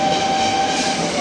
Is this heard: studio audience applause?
no